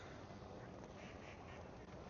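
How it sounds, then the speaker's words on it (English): Ducks quacking at a petting zoo across a street, a cluster of faint, distant quacks in the middle of a quiet outdoor hiss, with no talk during the calls. "a whole fuckload of like ducks and shit."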